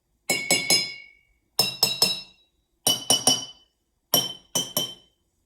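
Metal mallet strikes water-filled glasses used as a xylophone, giving four bright groups of three quick ringing clinks, each group fading before the next, close and clear with no talking.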